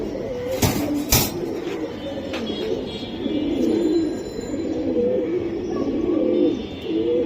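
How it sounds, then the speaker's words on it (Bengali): A female old-breed Moyna pigeon coos in repeated low rolling phrases close by, with a couple of sharp knocks early on and faint background clatter. "পুরানো জাতের ময়না কবুতর মাদি এটা"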